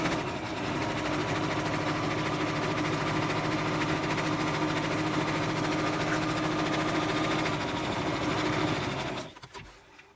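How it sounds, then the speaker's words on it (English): A sewing machine runs steadily on a fleece hat, making a continuous close mechanical hum and rattle for about nine seconds as it sews back stitches, then winds down and stops. "Okay, did a couple back stitches at the end there."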